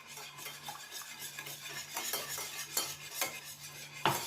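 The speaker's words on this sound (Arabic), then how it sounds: "وغنخلطو هادشي مزيان تينسجم ويذوب لينا السكر" Oil and sugar being stirred together in a bowl for an apple and lemon cake batter, a spoon or whisk scraping steadily with a few sharper clinks against the bowl, fairly quiet and close, with no talking.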